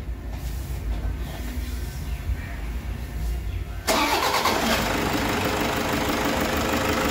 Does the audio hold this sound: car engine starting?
yes